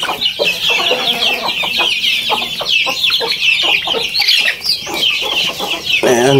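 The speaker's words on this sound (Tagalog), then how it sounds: "ito yung mga backyard chicken po natin" Native backyard chickens cluck and chatter steadily as a flock, close and fairly loud, with overlapping calls throughout and no talking.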